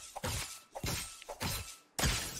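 The Talons harvesting tool in Fortnite strikes a shielded opponent in four quick, crisp impacts, each with a glassy crack.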